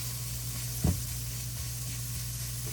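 Leftover seasoned rice frying in a pan produces a soft, steady sizzle and hiss, with one short thump or scrape near the start as the rice is moved; quiet and close, with no talking.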